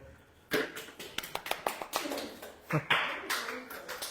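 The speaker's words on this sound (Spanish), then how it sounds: "un aplauso para Silvia, por favor" A small church congregation applauds a woman named Silvia, giving a sparse, uneven run of roughly a dozen close, distinct hand claps that starts abruptly and trails off over a few seconds.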